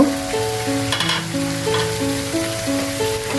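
Marinated chicken cooking in a pan on the stove for a dark-fried chicken curry, giving a steady close sizzle with occasional stirring scrapes, with no talk.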